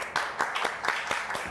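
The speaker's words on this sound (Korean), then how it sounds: "한번 뜨거운 박수 부탁드립니다." Applause at a guest lecture for a youth dream camp: distinct, fairly regular hand claps ring out in quick succession, close and moderately loud, sounding like a smaller group clapping together.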